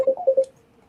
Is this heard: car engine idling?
no